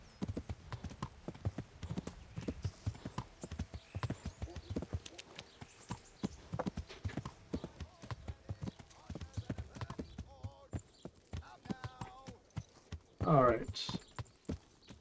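Horse hooves clip-clop in a steady walking rhythm along a forest trail in the medieval video game Kingdom Come: Deliverance, close and continuous. The hoofbeats slow near the end, and a short whinny follows.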